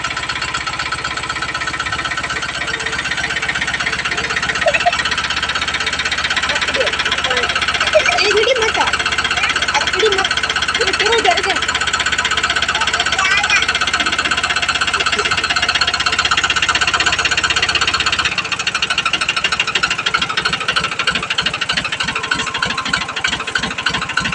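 A tractor engine runs steadily with a droning rumble, shifting to a rhythmic low chugging near the end, with voices talking over it at times.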